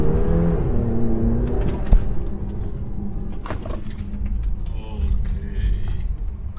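SUV engine pulling away from D1, a low rumbling drone with a falling tonal whine early on, close and moderately loud, with scattered clicks and knocks along the way.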